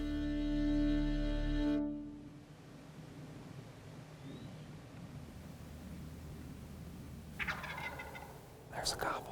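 A wild turkey gobbles from its evening roost, a single distant, rattling call arriving late amid steady outdoor hiss, after a strong low rumble at the start.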